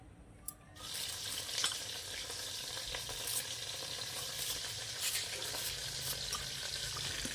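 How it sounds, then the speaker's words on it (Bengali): Shankar fish (stingray) frying in hot oil, its skin popping and crackling in a steady, dense sizzle that starts abruptly after a brief quiet moment and carries on at even volume, close by, with no talk over it. "মাছের ওপরে এই ছালগুলো ফটফট করে ফুটছে মাছটা পুরো লাল লাল করে ভেজেছি"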